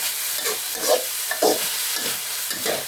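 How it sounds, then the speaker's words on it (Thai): Minced pork with chili and salt is dry-stir-fried in a hot pan, a continuous sizzle broken by rhythmic scraping tosses of the spatula roughly every half second, close and without talk. "ก็เราจะคั่วจนหมูนี้แห้งเลยนะครับ"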